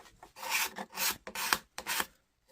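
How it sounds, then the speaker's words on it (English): A card scraper drawn over the wooden head of a pre-1900 golf club, giving a series of short, close rasping strokes with brief pauses between them. "Let's try the scraper first"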